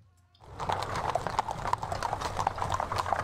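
Horse hooves clip-clop in a steady, busy rhythm as horse artillery moves in a Waterloo strategy video game, starting after a short near-silent moment and continuing at a moderate level.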